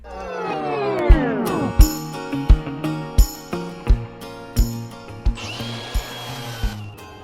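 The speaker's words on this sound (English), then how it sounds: "I just take my time grinding those off, trying to make the surface as even as possible" Power grinder with a 120-grit flat disc grinding rivet heads off a thin aluminum jon boat hull, a loud continuous whine with repeated rhythmic bursts as the disc bites, no talking.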